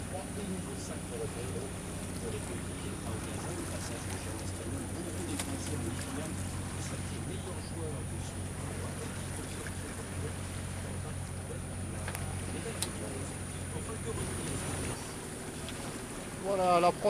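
Sailboat motoring out of Ajaccio toward the Sanguinaires, a steady low engine drone running throughout with wind noise, faint bird coos and occasional voices over it.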